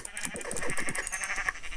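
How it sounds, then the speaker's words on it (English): Sheep bleat in Minecraft Java Edition, a run of short, rapid bleats repeating close and clear for nearly two seconds with no talk over them. "Let me get one more sheep so I just get a few more mutton"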